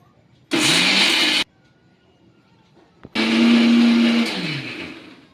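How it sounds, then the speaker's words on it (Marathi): A kitchen mixer grinder grinds roasted masala with peanuts in two loud bursts. The first is short, and after a pause a longer whirring run winds down at the end. "घेऊ आता आपण पटकन मिक्सरमधून काढून"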